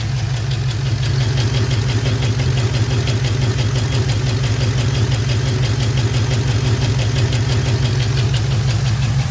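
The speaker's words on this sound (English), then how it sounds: "That, unfortunately, is a lifter that I think it's collapsed." A GM LS4 V8 idles close and loud with a steady, rapid ticking knock from a collapsed lifter, running a little rough with the number 4 fuel injector unplugged, a constant even rhythm throughout with no voices.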